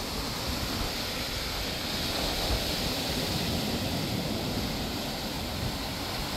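Large ocean waves pounding an eroded coastline at night, a steady, dense roar of surf with constant wash and hiss, fairly loud and unbroken throughout, with no voices.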